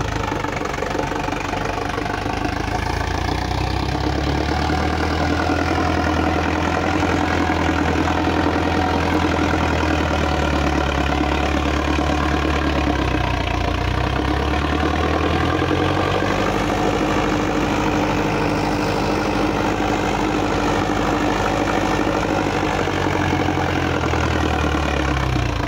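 A tractor engine idles steadily and loudly up close at night while a harrow competition track is prepared, a continuous low rumble with a rhythmic knocking pulse that never lets up.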